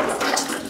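Water runs steadily from a bathroom tap as someone washes their face, a brief, continuous, close splashing hiss with no talk.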